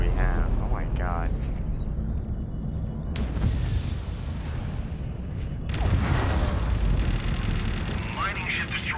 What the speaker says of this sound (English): Mining ship destroyed.